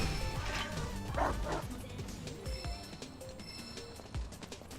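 A dog barks and yips a few times in Final Fantasy VII Rebirth, short sharp calls mixed with crashes and other game sounds over a steady noisy bed.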